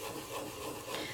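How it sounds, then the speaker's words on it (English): Glitter is rubbed onto a sticker to burnish it, a faint, steady scratchy rubbing that continues throughout the brief moment. "when I mean burnish, I mean I need to rub, rub, rub"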